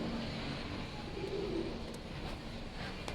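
A champion racing pigeon coos softly, a low murmuring call faint against steady background noise.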